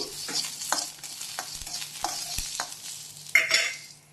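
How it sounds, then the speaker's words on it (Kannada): Ingredients for a chicken dum biryani masala are frying and being stirred in hot oil in a pan, giving a steady sizzle with a run of distinct scraping stirs and a louder burst near the end. "ಇದು ಎಣ್ಣೆಯಲ್ಲಿ ಫ್ರೈ ಮಾಡಿ ಸ್ವಲ್ಪ ಹುರಿದುಬಿಟ್ಟು ಮತ್ತು ಪೇಸ್ಟ್ ಮಾಡಿ ಹಾಕ್ಕೊಳ್ತೀನಿ"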